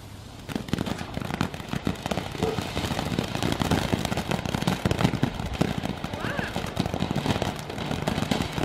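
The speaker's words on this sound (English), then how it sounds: "Fireworks." Fireworks being set off, giving a dense, continuous run of crackling pops and bangs for several seconds, fairly loud throughout, with some voices in the background.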